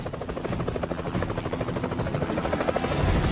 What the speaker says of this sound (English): When the helicopter was coming in to land, the crew noticed a small UFO approaching it at a high speed.